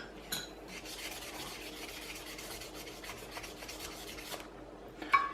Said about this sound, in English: 1200 grit piece of sandpaper. So I'm just going to wet that.